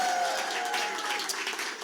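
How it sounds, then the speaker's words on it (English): Applause for Governor Ned Lamont at a Connecticut election-night victory gathering, a dense steady wash of clapping from a crowd that stays fairly even for about two seconds. "A big round of applause for Governor Ned Lamont"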